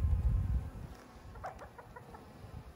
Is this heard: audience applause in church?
no